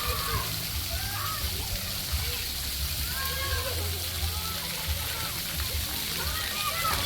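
Water splashes and sprays continuously as children run through a hotel splash area, with voices talking over the steady watery rush.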